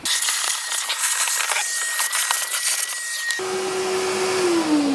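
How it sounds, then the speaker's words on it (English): A vacuum cleaner hoovers drilling dust out of a Keter Store It Out Midi 880 litre plastic outdoor storage box, roaring loud and close, then its pitch shifts abruptly partway through as the load changes. "As you can see, quite a lot of dust formed by that drilling. So, give it a hoover out."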